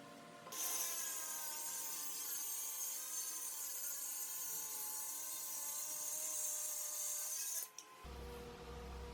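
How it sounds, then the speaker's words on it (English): A power saw slices through a wooden shelf board being cut to length for a closet organizer, a loud high whining cut lasting about seven seconds that stops abruptly, followed by a low rumble. "Here I'm just cutting the top shelf to length that will reach from wall to wall inside the closet."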